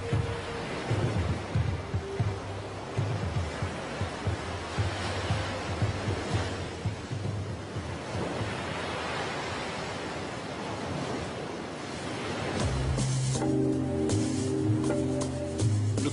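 Ocean waves roll and break in long, washing surges against a rusting shipwreck off Tunisia, rising and falling repeatedly; a faint tonal melody enters near the end.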